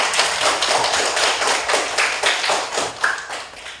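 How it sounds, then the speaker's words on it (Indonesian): A class in a poetry lesson claps hands together, a close, lively burst of overlapping claps lasting a few seconds. "berikan tepuk tangan"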